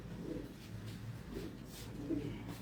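Pigeons kept in small loft cages with a tray system coo softly, with about three low, faint, repeated coos in a quiet room.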